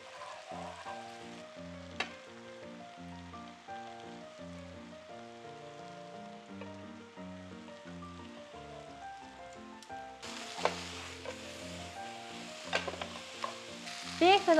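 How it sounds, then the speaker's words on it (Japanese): American beef stir-frying with mushrooms and butter in a pan, a soft crackling sizzle with a spatula tapping and scraping, close and fairly quiet, turning brighter and louder near the end, no talk. "次にアメリカンビーフを入れて炒めていきます。"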